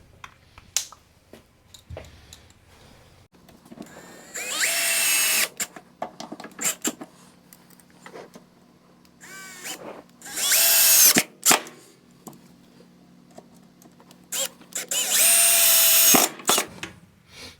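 A power drill drives a screw into the base of a custom DSLR webcam camera rig, with three loud bursts of whirring separated by quiet gaps and light handling clicks.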